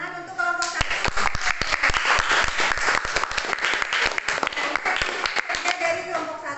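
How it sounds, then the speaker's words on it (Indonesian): A classroom of students claps for a student group, a close, busy burst of many hands that swells quickly and stays lively for several seconds before thinning at the end, with a few voices and a tonal hum underneath. "tepuk tangan untuk kelompok 1"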